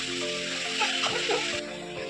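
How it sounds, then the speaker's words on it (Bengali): Mutton sizzling loudly in a hot pan while being stirred, a constant close frying hiss with soft scraping movements running through the whole moment. "মাংসটাকে আমি একটু নেড়ে নিচ্ছি"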